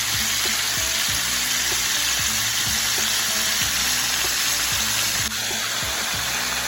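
Catfish pieces deep frying in a pan of hot oil, a loud, steady bubbling sizzle with dense crackle that continues unbroken throughout.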